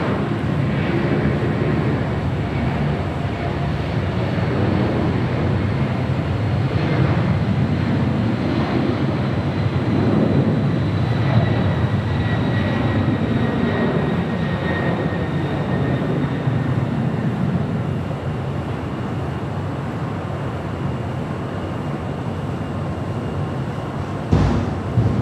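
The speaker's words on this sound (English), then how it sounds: "we do have that Delta 767-300ER, 32 years of age, heading to JFK, flight 688, now rolling down 25 right" A 32-year-old Delta Boeing 767-300ER jet rolls down runway 25 Right at LAX on its takeoff run to JFK, a loud, steady broadband engine roar that swells and holds throughout, heard from a distance.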